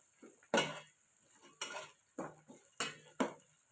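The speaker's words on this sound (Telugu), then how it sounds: "ఆయిల్లో స్లోగా మగ్గించుకుంటూ కలుపుకుంటూ ఫ్రై చేసుకోవాలండి" Beans being stirred slowly in oil in a pan for veg pulao, with a quiet sizzle broken by five sharp utensil scrapes and clinks against the pan at a steady, unhurried rhythm.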